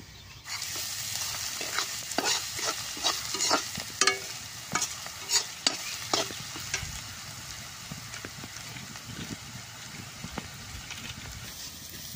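A jute leaf curry with lentil dumplings simmers in a pan with a soft, steady sizzle, broken by a run of sharp stirring clinks and scrapes that ease off toward the end.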